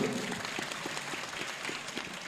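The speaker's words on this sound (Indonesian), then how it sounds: "Tepuk tangan untuk beliau." Audience applause at an Islamic religious lecture by Ustadz Abdul Somad, a steady wash of many hands clapping at moderate level for the full stretch, with no talk over it.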